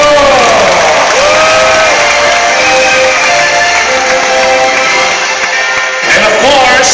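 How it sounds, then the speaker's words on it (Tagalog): An audience at a profit-sharing award ceremony claps and cheers in a sustained burst of applause with whoops, while a voice speaks over the crowd noise. "Kaya palakpakan natin sila."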